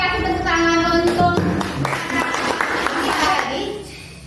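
Applause rings out at a high school student council candidate debate, a burst of clapping hands mixed with children's voices and talk in a hall.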